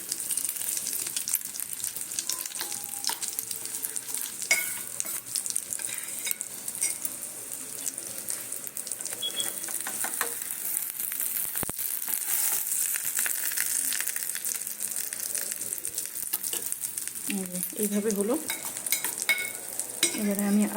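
An egg omelette fries in a pan over a medium gas flame, giving a continuous bright hiss with occasional light scraping and utensil taps near the end.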